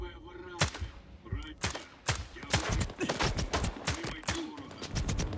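Rapid bursts of gunfire crack repeatedly, loud and close, from a rifle firing armor-piercing and standard rounds in S.T.A.L.K.E.R. 2, some in quick strings like automatic fire, with game-style effects between shots.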